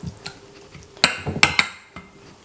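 Green olive tapenade being mixed by hand, with a utensil scraping and clinking against a bowl in a few sharp knocks and softer stirring scrapes, close and fairly quiet, no talking.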